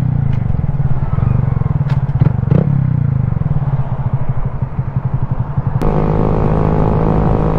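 A 2023 Honda Grom motorcycle out cruising on the road, steady low engine drone and wind rumble, with a few clattering knocks and a sharp click near the end, loud and continuous.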